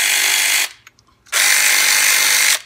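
A Harbor Freight Earthquake XT 3/8 inch 12-volt cordless ratchet running in two loud whirring bursts with a short near-silent gap and faint clicks between them, close to the listener.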